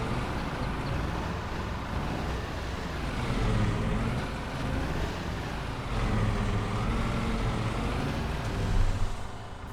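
A car engine idles and runs in Farming Simulator 22, a continuous low mechanical drone that swells slightly at times, steady and fairly loud with no talking.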